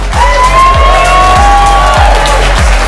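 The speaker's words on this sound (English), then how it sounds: "let's give them a big round of applause as they come on out" Loud audience cheering and whooping fills the room as participants walk out on stage, with shouted voices over steady crowd noise and a pulsing bass beat thumping underneath.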